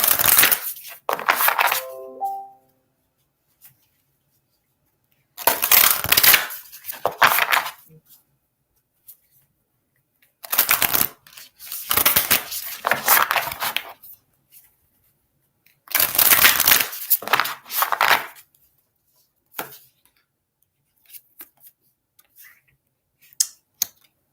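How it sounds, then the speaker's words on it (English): Tarot and oracle cards are shuffled in four separate bursts of riffling and slapping, each lasting a couple of seconds, with silence between them and a few soft taps near the end. "I'm going to shuffle up and pull an oracle to kind of ground the information."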